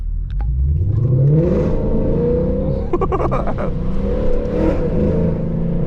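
A tuned Lexus RC F launches hard from a standstill in first gear, its engine note sweeping upward in a loud, close rev with a rising whine, then holding a sustained roar as the car pulls away.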